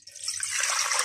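Water for a pork ramen stock pours into a pot, a short, bright, steady splashing stream that builds slightly and stays close and clear.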